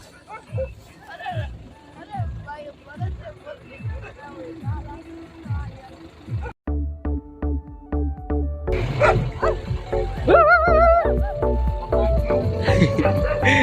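Dogs bark repeatedly in quick, close bursts, then the barking gives way to louder clattering, tonal noise and voices.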